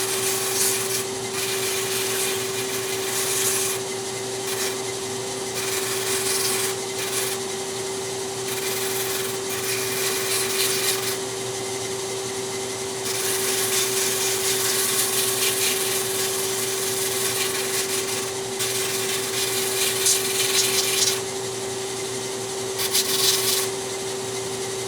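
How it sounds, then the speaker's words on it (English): Big power sander shaping and rounding an intarsia wood piece, a steady loud whirring drone with a constant hum, its gritty abrasive rasp swelling and easing in repeated passes over roughly 25 seconds. "big sander is so aggressive"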